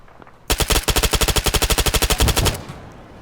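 An MP7 personal defense weapon fired in ARMA 3 with the RHS mod during King of the Hill play, one loud rapid automatic burst of about twenty evenly spaced shots, then a short fading tail.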